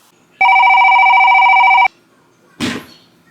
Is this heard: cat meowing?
no